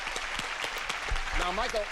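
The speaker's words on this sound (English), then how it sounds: "He claps crazy too." A man on a game show claps in a quick, uneven burst mixed into crowd applause, with a voice speaking over the top near the end.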